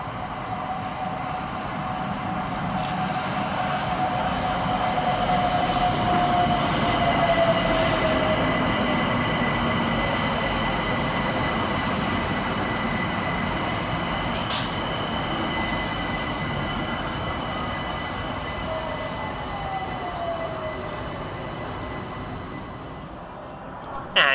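A London Overground Class 378 electric train rolls into Surrey Quays station steadily, its motor whine and rail rumble holding loud throughout, with a brief squeal of wheels and a faint hiss.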